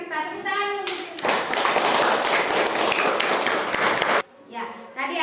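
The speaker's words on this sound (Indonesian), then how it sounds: "Tepuk tangan untuk Tirta" Classroom of children applauding a classmate named Tirta, a loud burst of many small hands clapping for about three seconds, framed by a teacher talking before and after.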